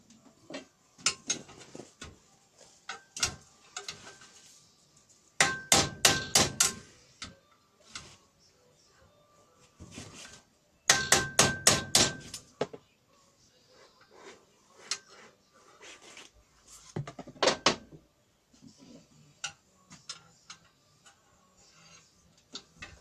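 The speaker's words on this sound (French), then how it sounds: "pour mettre ça droit, j'utilise un pavé d'acier qui me sert de petit enclume" Metal struck with a hammer on a small steel block serving as an anvil to straighten it, heard as several bursts of rapid, sharp ringing blows with short pauses between, close and fairly loud.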